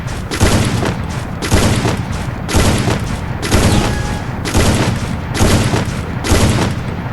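Gunfire from the mobile game Garena Free Fire with a sniper rifle: seven loud, evenly spaced blasts about a second apart, each a broad burst, with no talk over them.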